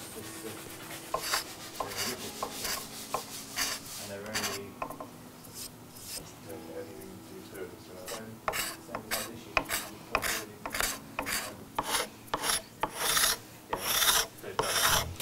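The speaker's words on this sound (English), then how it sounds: "I get why you like these card scrapers so much." A card scraper working wood during a custom electric guitar build, giving rapid raspy scraping strokes that quicken and grow louder toward the end, close and with no talk.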